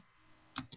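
Two crisp keystrokes on a computer keyboard while entering a 3D Face command in AutoCAD, a quiet pause followed by a sharp click and a second lighter tap, close and clear with no talking.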